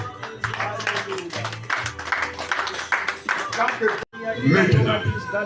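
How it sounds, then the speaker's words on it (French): A church congregation clapping and acclaiming Jesus, rhythmic hand claps mixed with loud voices and shouting, briefly cutting out before the crowd noise resumes. "Acclame Jésus"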